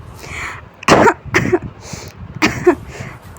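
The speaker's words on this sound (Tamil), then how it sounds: "இருமல் சவுண்ட் கேட்டுகிட்டே இருக்குது." Several harsh coughs come in quick bursts, close and loud, spaced over a few seconds with short pauses and raspy throat-clearing between them.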